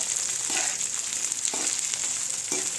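Green chillies sizzle in hot oil in a kadai, a dense, steady hiss that holds throughout, with a few soft stirring scrapes near the pan and no voices.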